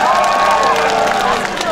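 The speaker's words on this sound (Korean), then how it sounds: "박수 부탁드립니다." A crowd at an outdoor K-pop concert during the Boseong green tea festival claps and cheers, a loud, continuous roar of applause with shouting voices mixed in.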